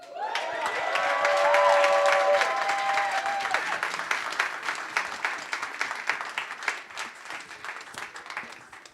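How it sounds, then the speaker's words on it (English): An audience breaks into sustained applause at a live awards announcement, loud and steady at first with a few cheers, then thinning into scattered claps. "Please give her a round of applause."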